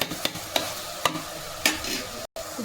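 Mutton keema curry is stirred with salt in a frying pan, a spoon scraping in regular strokes about every half second over a steady sizzle, ending in a brief cutoff.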